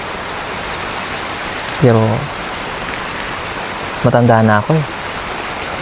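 Steady rain pours as an even, close hiss across the whole stretch, with two short bursts of a person talking over it.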